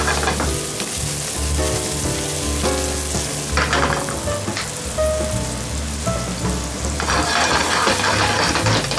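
Seabass frying in butter in a pan with garlic and mushrooms: a steady, close sizzle and crackle that runs without pause, with no talking.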